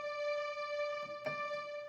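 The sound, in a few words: keyboard layered grand piano and flute voices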